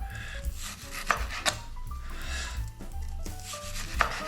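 A knife slices partially frozen pork fillet into thin jerky strips, giving a close, scraping, rasping cut with a few sharper knocks against the board and no voices.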